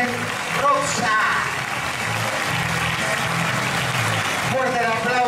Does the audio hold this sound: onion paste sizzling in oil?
no